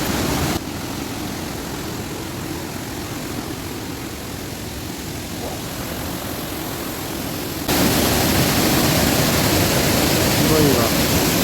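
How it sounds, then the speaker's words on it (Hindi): A mountain waterfall along the trekking route from Gangotri to Kedarnath roars as a dense, steady wash of noise that gets suddenly louder partway through, as if the listener moved closer. "कितना अच्छा झरना।"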